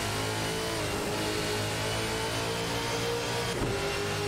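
Video-game racing car engines from a Holden Commodore VF and a Ford Falcon FG drone steadily at mid pitch, a continuous revving hum with no gaps.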